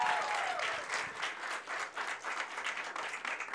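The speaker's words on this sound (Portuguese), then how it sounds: "Palmas pra ele, palmas pra ele." Audience applause from a stage show crowd, steady dense clapping throughout at moderate distance, with a faint voice briefly audible at the start.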